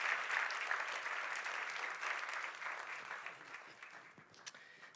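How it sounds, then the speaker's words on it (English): An audience at a church service applauds, a dense wash of clapping that starts full and slowly thins out over several seconds. "Guys, let's give Pastor Aaron a big round of applause."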